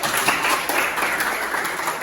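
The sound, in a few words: class applauding for Elis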